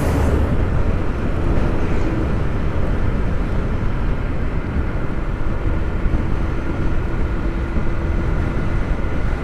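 Semi-trucks with bigger engines climb and overtake on the BR 163 highway, a steady broadband road and engine rumble heard at a moderate distance.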